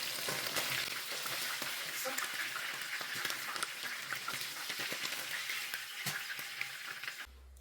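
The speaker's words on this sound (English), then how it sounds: "I'm going to remove it and fry some pepper, small pepper sauce for it" Small pepper sauce frying in a pan for a tilapia fish dish, a steady broadband sizzle with occasional stirring clicks, close and fairly loud, running continuously with no talking.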